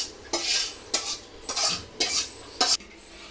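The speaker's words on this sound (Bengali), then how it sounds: "গ্যাস যেটুক আছে, যে ডাল বাগার দিতে আছে" Dal being tempered in a pan on a gas stove, stirred with a metal utensil in six or so rhythmic scraping strokes against the pan, close and clear, with no one speaking.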